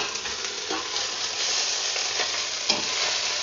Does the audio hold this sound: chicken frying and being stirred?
yes